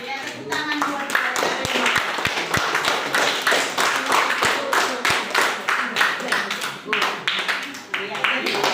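A class claps together in a room, brisk uneven hand claps from several people, close and fairly loud, with voices talking over the clapping.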